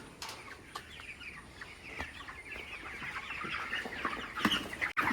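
Broiler chickens on a farm cluck and chirp steadily during heavy rain, a busy chorus of many birds at moderate distance with no talking.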